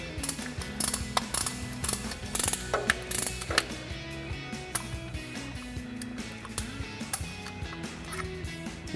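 A caliper compressor tool is cranked against the brake pistons of a Tacoma during a pad change, giving a close, steady run of ratcheting clicks and metallic creaks with no talking.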